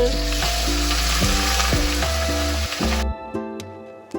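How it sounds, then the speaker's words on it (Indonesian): Small pieces of tofu fry in hot cooking oil with a loud, steady, close sizzle that runs continuously and cuts off abruptly near the end. "Kemudian panaskan minyak goreng, lalu goreng tahunya."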